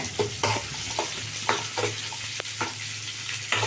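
Onion frying in oil in a pan for a moong dal thovve. A soft sizzle sits under a low hum, punctuated by repeated scraping strokes of a spoon stirring at uneven intervals, with no talking.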